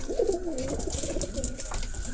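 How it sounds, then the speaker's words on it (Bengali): Pigeons coo softly in a basket coop where a bird sits on eggs among chicks, a low rolling warble near at hand over faint background noise. "এখানে কবুতর ডিম নিয়ে বসে আছে"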